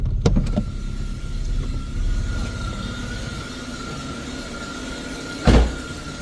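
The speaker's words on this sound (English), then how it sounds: "I'm gonna take it for a spin to see what it does on the road" A Ford Focus with intermittent electrical faults drives on the road, a steady low engine and tyre rumble from inside the cabin with a faint whine and a brief loud thump near the end.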